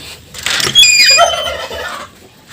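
A turkey hen gobbles loudly and close by on a farmyard, one rapid warbling burst of calls, then quieter background.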